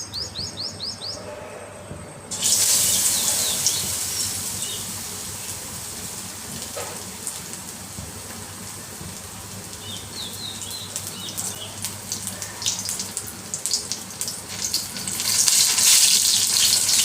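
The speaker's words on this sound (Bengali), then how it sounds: "আর একটা একটা করে ফুল ব্যাটারে ডুবিয়ে ভেজে নেব।" Banana flower fritters dipped in batter frying in hot oil, a bright hissing sizzle that swells after a short quiet start, with birds chirping in the background.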